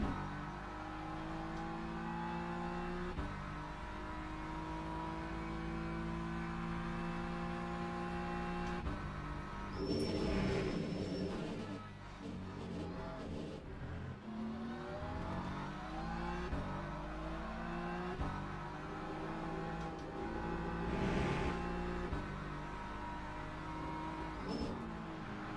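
Race cars on the Circuit of the Americas in the Le Mans Ultimate racing game, engines droning and revving through gear changes, with a couple of cars whooshing past, steady and fairly loud throughout.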